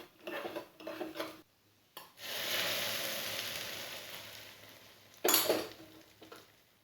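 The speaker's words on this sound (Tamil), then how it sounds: "நெய்யில் வந்து முந்திரியும் திராட்சையும் வறுத்து உள்ளே" Cashews and raisins frying in ghee for a pineapple rava kesari: a few spoon-and-pan clinks, then a sustained sizzle rising and slowly fading, followed by another burst of scraping and clatter, all close with no voices.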